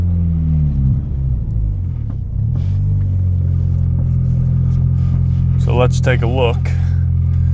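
A boosted Honda Civic engine running lean at idle, a loud close rumble with an uneven, pulsating low drone, as someone talks over it.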